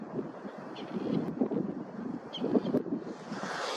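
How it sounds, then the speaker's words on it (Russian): Strong wind batters the microphone in rough, low rumbling gusts outdoors at night in Kharkiv in February, a continuous roaring buffeting close up with no voices. "Очень сильный ветер, но поэтому тряска такая в кадре."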